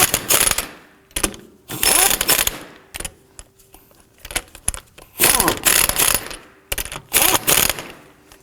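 Lug nuts on a 2005-2009 Subaru Legacy wheel being snugged down with a ratchet in a crisscross pattern: repeated bursts of loud, close mechanical clicking and ratcheting, separated by short pauses.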